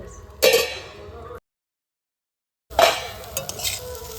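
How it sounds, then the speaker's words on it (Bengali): Potato peels cooked with poppy seeds being stirred in a pan, giving scraping, clinking strokes of a utensil against metal with a faint sizzle, in two short bursts separated by a silent gap. "পোস্ত দেওয়ার পর এইভাবে নাড়াচাড়া করে"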